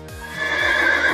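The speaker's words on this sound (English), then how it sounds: "It's a horse." A horse neighs in a loud, high whinny that rises and shakes, with faint hoof-like thumps underneath at the start.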